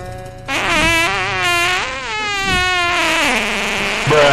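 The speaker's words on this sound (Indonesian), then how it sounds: "Waduh, udah ngorok, kentut lagi." A long, loud, buzzing fart from an elderly man inside a car, with a wavering, rising and falling pitch, drawn out over several seconds.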